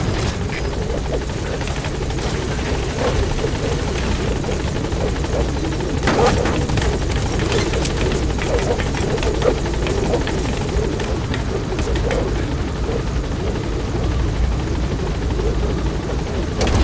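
Continuous helicopter rotor and engine drone from a video game flight climbing in altitude, loud and steady throughout with faint radio chatter-like voices underneath.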